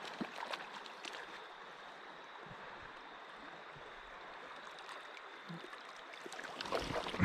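A river in south central Pennsylvania flows past in a continuous watery rush, moderate and close, with a few splashes and a stronger surge toward the end, no talking.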